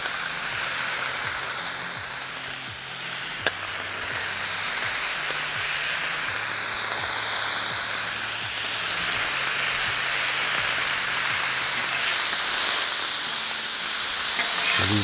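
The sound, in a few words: bacon sizzling under presses on a Blackstone griddle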